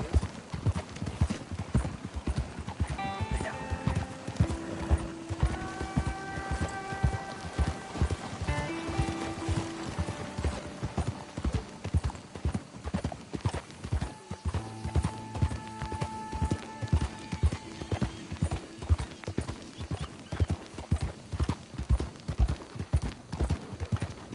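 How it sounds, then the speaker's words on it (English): Rhythmic horse hoofbeats clip-clop steadily throughout in the video game Red Dead Redemption 2, with occasional horse whinnies and tonal music playing over them. "That's what you call a prize-winning horse."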